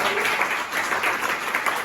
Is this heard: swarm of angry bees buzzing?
no